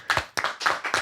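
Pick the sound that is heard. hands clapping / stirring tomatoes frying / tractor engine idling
hands clapping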